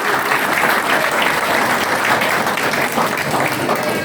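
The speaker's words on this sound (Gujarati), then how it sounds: "એટલે જગદીશભાઈ માટે આપણે જોરદાર તાળીઓ આપીએ." Sustained, dense applause from an audience at a Kutch Kadva Patidar community gathering in Naroda, Ahmedabad, with steady, loud clapping throughout and no pauses.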